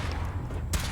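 A weapon fires in the Fallout 4 game: a sudden loud burst cuts in late over a constant low mechanical rumble.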